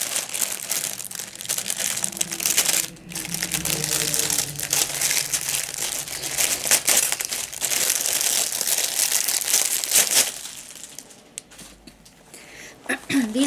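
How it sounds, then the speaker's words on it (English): Big plastic pouches with iridescent plastic handles crinkle and crackle loudly as they are handled up close, in dense irregular bursts with a brief pause partway through. "I bought 2 of these pouches. Now, these are plastic pouches."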